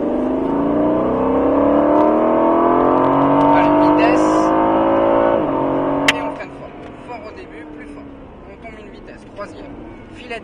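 Aston Martin V8 Vantage accelerating on a track, a loud close engine roar climbing steadily in pitch for about six seconds before easing off to a quieter drone, with someone talking over it.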